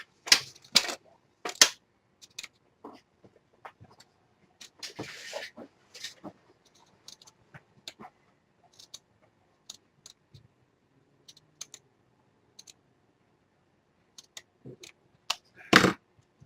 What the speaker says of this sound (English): So I'm just going to cut this straight across.